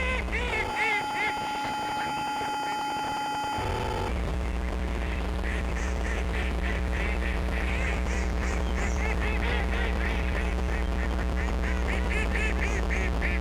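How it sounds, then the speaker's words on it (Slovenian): A flock of ducks takes off with startled quacking and honking, a dense chorus of calls spreading over a steady loud background. "Nenadoma se je s preplašenim vikom dvignila jata rac in naju preletela."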